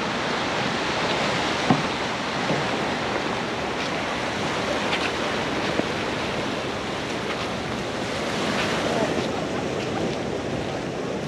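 Sea waves washing onto the rocky Paphos shore beside a man-made beach make a steady, broad surf rush with little variation, heard alone without talk.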